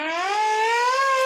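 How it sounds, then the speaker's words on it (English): A siren sound effect plays during a televised poker final table, one continuous rising wail that climbs slowly in pitch, loud and alone with no talk over it. "trying to call them in using the siren"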